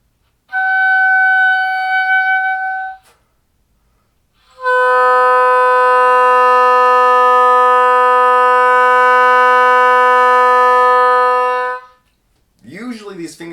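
An oboe holds a steady tone, falls silent briefly, then sounds a longer, richer sustained multiphonic chord with dense overtones before a short wavering final note.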